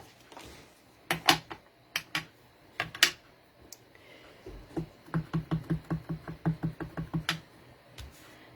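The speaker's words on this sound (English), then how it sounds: "now we're going to stamp our greeting on the front of the card" A rubber stamp presses a greeting onto a card with several soft taps, followed by a quick run of a dozen or so light, even knocks, close by and quiet.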